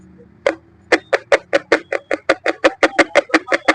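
A home theater speaker is tested by touching a small battery to its terminals, producing a loud, regular series of sharp clicks, about four per second, close up with a faint hum underneath.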